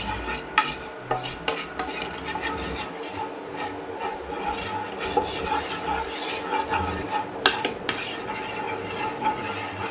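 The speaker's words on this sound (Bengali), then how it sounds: "তাওয়াতে একটু বাটার ব্রাশ করে নেব।" Butter brushed across a hot tawa while making pizza without an oven, heard as steady, close scraping and rubbing strokes with light metallic clinks and a soft sizzle throughout.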